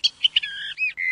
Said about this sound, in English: It's a bird singing.